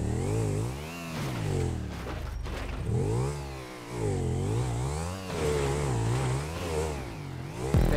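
Motorcycle engine in GTA V revving up and down in repeated surges, loud and close, with rising and falling pitch sweeps and brief dips between throttle bursts.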